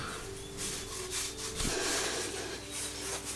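A sharp tool scrapes a small burr out of a new brake line on an Iveco Daily van, giving soft, close rasping strokes with brief pauses in a quiet workshop.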